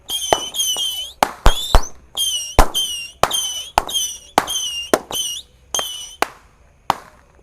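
Firecrackers and fireworks on a Ramadan night go off in a rapid string of sharp, loud cracks, each followed by a whistling squeal, about a dozen bursts in quick succession.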